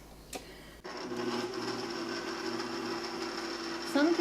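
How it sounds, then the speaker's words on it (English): An electric mixer whirs steadily through mashed potatoes with milk and butter, starting abruptly after a brief click and running as a continuous close motor drone with a rougher churning at the end. "Put it in the mixer."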